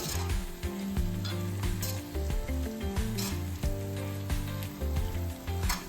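Banana chips frying in hot oil in a home kitchen, a steady loud sizzle running throughout, with occasional stirring scrapes from a wooden stirrer.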